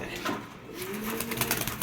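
Andalusian exhibition pigeons with white eyes coo at close range in a soft, rolling, low murmur. The cooing carries steadily through a loft-like space, with no talking.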